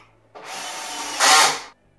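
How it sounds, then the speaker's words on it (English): A power drill on a loose setting whirs in a short burst as it tightens a screw into a bed frame during assembly, close and loud, rising in pitch near the end before cutting off. "Now take your power drill, just make sure it's a little bit of a loose setting."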